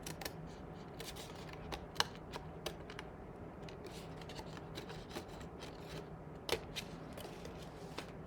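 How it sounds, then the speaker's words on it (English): Scissors snip through paper for a pop-up card, a series of faint, sharp, irregular cuts and rustles close by in a quiet room. "I am just going to cut up just along here."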